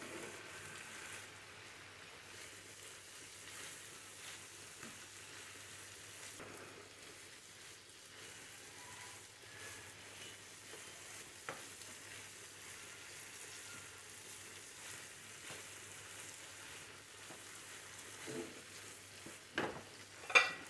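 Catla fish frying in a pan gives a faint, steady sizzle with occasional small pops, close and quiet throughout.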